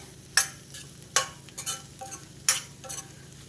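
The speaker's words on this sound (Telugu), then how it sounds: "మనం కొబ్బరి వేసి దీన్ని ఒకసారి కలిపేసుకొని" A spoon stirs a carrot and coconut fry in a pan, giving a few distinct scraping knocks spaced apart over a soft background sizzle.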